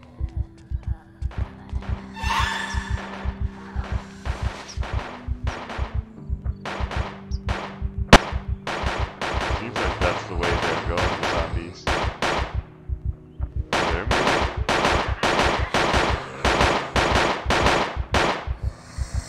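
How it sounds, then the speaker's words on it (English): Rapid bursts of in-game gunfire from Project Zomboid crackle in uneven volleys, some clustered into fast automatic strings, others single shots, fairly loud and continuous with a low hum beneath and a brief higher tone early on. "That's a lot of gunfire."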